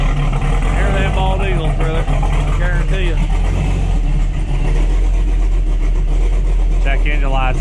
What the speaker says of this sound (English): It's idling at 600 RPM.